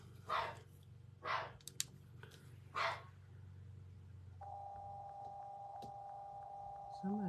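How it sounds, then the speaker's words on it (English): A dog barks indoors, three separate barks spaced about a second apart, moderately near, over a steady low electrical hum, followed by a sustained tone and a short final yelp. "my dog's barking"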